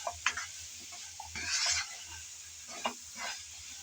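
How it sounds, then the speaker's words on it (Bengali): Spices frying in a pan for a raw sweet pumpkin dish, heard as a quiet sizzle broken by a few scraping stirs and clatters of a spoon against the pan. "এখন সব মশলা দিয়ে ভালোভাবে নেড়েচেড়ে ভেজে নিতে হবে।"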